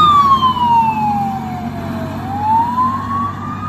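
A fire truck siren wails loud and close, its tone sliding down and then sweeping back up over a low engine rumble, with no talking.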